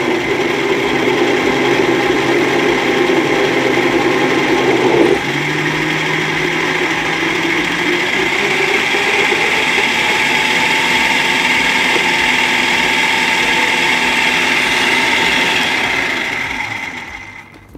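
An electric blender runs steadily while making creamy chocolate with toasted chopped hazelnuts, a loud continuous motor whine that shifts pitch slightly partway through as the mixture thickens, then winds down at the end.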